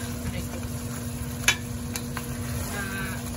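Potato pieces frying in a pan for pork adobo, giving a steady, even sizzle with a constant low hum beneath and a few faint ticks and clinks throughout.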